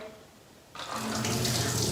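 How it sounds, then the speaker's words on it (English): Water is poured from a bowl of pomegranate seeds through a strainer, a sudden close rushing splash that starts after a quiet moment and keeps flowing steadily. "we're just gonna take a strainer and dump our water"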